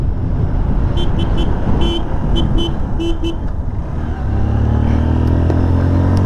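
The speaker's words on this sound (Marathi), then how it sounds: "नशीब आपण हॉर्न देत होतो" A motorcycle rider honks repeatedly on a narrow ghat road, the Bhuibawda ghat, giving several short horn toots in a rough rhythm over loud engine and wind rumble, with the engine note changing near the end.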